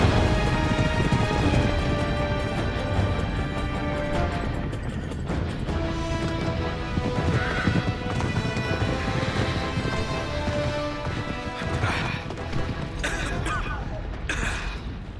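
Horse galloping in the action game Uncharted 3: Drake's Deception, a dense steady rumble of hoofbeats mixed with game music and crashing effects, with brief voice sounds and no clear neigh standing out.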